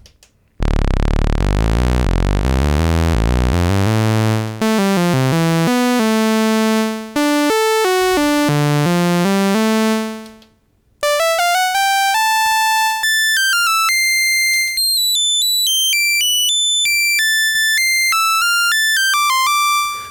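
Arturia MicroFreak synthesizer oscillator set to a saw wave, sweeping through sustained bright, buzzy tones that step from low to high pitches and ends in a quick run of high notes, loud and close with no talk.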